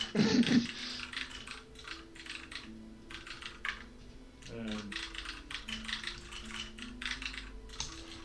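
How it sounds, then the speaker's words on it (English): Rapid clicking keystrokes on a computer keyboard in bursts over several seconds, close and moderately loud, with a faint tonal hum and some brief background clatter. "My keyboard's pretty awesome, eh? Sounds like my old one."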